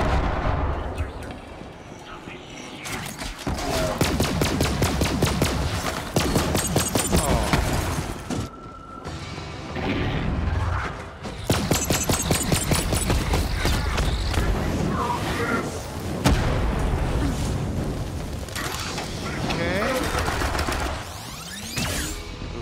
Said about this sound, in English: Gotta stay away from those damn grenades.